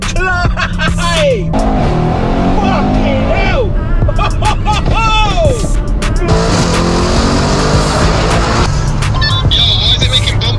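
Stage 3 Mercedes E63s tuned to 1007 bhp, its engine loudly revving and accelerating in repeated surges, heard from inside the car under excited talk and shouting from occupants.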